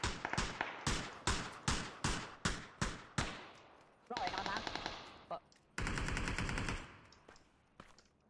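Gunfire in a battle royale video game: a rapid string of sharp, evenly spaced shots, then longer bursts of sustained automatic fire, loud and close.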